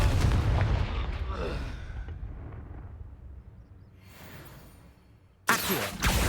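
A Confringo spell blasts in the Hogwarts Legacy video game with a loud rumbling explosion that slowly fades, then a second sharp blast bursts out near the end. No one speaks during it.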